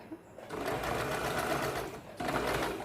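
A sewing machine stitches a blouse, its needle running in a close, rapid patter through two bursts with a short pause between them.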